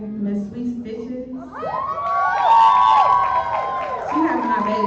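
A showcase audience cheers and whoops, with the noise swelling after a voice speaks over a microphone and carrying on to the end.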